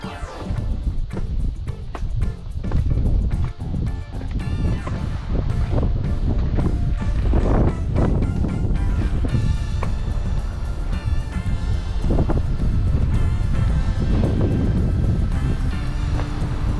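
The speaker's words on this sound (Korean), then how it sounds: "사실 바람이 엄청 세게 불고 있습니다." Strong wind on Seoraksan mountain near Ulsanbawi rock in late summer, a loud continuous roar buffeting the microphone with rumbling gusts throughout.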